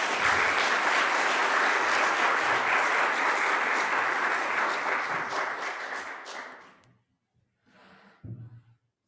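A Korean church congregation at a Sunday worship service applauds to welcome newly baptized members, with loud, dense clapping that holds for about six seconds, then thins and fades out, leaving a few faint scattered sounds.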